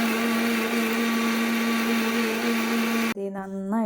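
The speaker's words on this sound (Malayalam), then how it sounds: "ഇതൊന്ന് നമുക്ക് മിക്സിയുടെ ജാറിലിട്ടൊന്ന് അടിക്കണം" A mixer grinder jar whirs loudly and steadily while blending curd for a banana curry, then cuts off abruptly near the end, with brief speech following.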